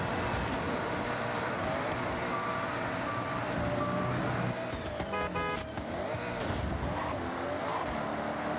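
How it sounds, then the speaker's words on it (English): A stock G-Wagon passes in Forza Horizon 6 amid a continuous racing-game engine drone, with a rising and falling vehicle sweep and some beeping tones midway. "Getting passed by what appears to be a stock G-Wagon."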